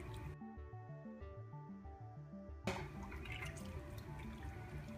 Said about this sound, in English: Okay, I'm going to start ladling my chicken stock.